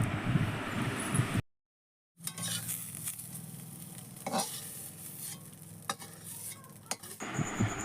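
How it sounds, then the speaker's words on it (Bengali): Soaked soya chunks stirred in hot oil in a wok, sizzling with scraping stir strokes and a brief silent gap early on, close and moderately loud with no voices. "ওই তেলের মধ্যে দিয়ে দেবো আগে থেকে ভিজিয়ে রাখা সয়াবিন সয়াবিনগুলো দিয়ে হালকা নাড়াচাড়া করে সয়াবিনগুলোকেও উঠিয়ে নেবো"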